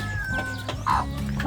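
Rhode Island Red and New Hampshire cross hens and newly hatched chicks, close soft clucking with a short louder call partway through over a steady farmyard background, no talking.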